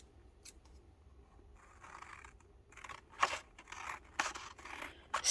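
Scissors cut paper up close, quiet rustling at first, then a series of sharp snips and crisp paper slicing that grows louder toward the end, with no talking.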